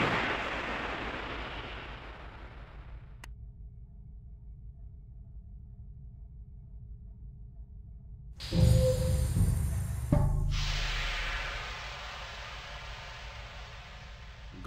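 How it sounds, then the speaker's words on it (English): A loud explosion picked up on submarine sonar in a naval combat video game, a heavy booming burst that strikes suddenly after a long quiet stretch and rings out, followed by a second hit. "Control acoustics. Loud explosion."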